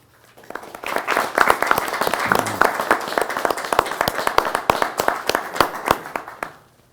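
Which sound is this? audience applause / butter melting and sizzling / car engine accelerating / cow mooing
audience applause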